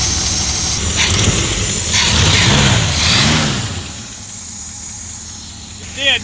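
Chevrolet 454 big block V8 in a square body camper special truck, running loud and steady with a rumbling, rising and falling engine tone, close by, and voices faint over it.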